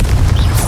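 A Confringo fire spell in Hogwarts Legacy detonates as a single heavy, booming blast with dense low rumble and a bright fizzing tail, loud and close.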